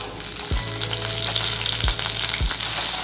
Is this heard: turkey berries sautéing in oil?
yes